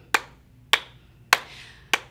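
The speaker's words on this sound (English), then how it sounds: "Can you clap along with me?" Four sharp hand claps spaced roughly evenly, about half a second apart, close and crisp over a quiet background hum, clapping along to a children's welcome song at story time.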